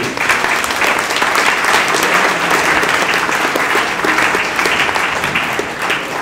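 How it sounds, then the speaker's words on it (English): Audience applause for the speakers at an evening sustainability event, a dense, loud and even roar of clapping from a large crowd lasting the full length without pause. "having a round of applause for all of our speakers this evening"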